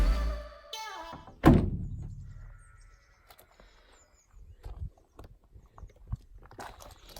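A misaligned Land Rover Series 2 door that does not close properly slams shut with a single heavy metallic thunk, its ring fading, followed by scattered small clicks and rattles.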